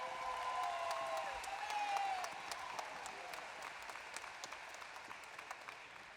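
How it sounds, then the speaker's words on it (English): An indoor convention audience applauds a high school band at a state FFA convention. The clapping is loud and dense at first, then thins into scattered claps and fades out. "How about another round of applause for them?"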